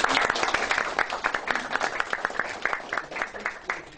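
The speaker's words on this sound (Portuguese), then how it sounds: "peço para elas uma salva de palmas" Audience applause at an academy of letters ceremony, a steady patter of many hands clapping at close range, lasting the whole stretch with no talking over it.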